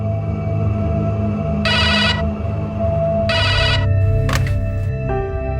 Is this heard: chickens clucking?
no